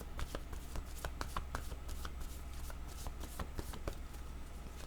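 Tarot cards are handled and drawn with a steady run of crisp flicks and shuffling riffles over a low constant hum, close and fairly loud, with no talking.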